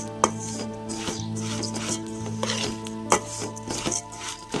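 Flattened rice (atukulu) is stirred and turned in a pan while a village-style snack mixture is made, with repeated scraping and tapping strokes of a utensil against the pan over a steady hum.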